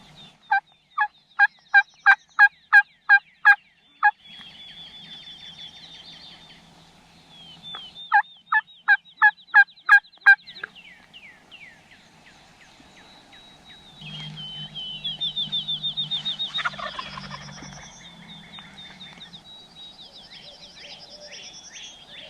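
A wild turkey gobbler on a Kentucky hardwood ridge gobbles repeatedly in rapid rattling bursts, fairly distant and clear in quiet woods, with other bird calls and a low rumbling pass later on.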